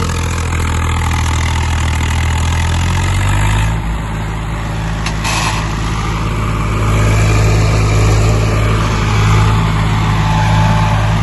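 A tractor engine runs close by during wheat sowing with a steady diesel rumble, its pitch shifting slightly as the revs change.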